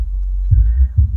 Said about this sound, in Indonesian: Oke, ini suara subwoofer saja